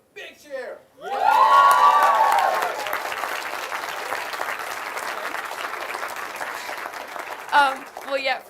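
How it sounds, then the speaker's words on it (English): An award ceremony crowd bursts into loud, sustained applause and cheering close by, with brief voices just before it starts and as it fades. "Can I get a big cheer?"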